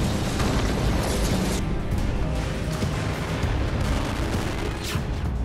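A Russian Sarmat missile test launch, heard as a loud, continuous, dense roar that stays steady and unbroken from start to finish.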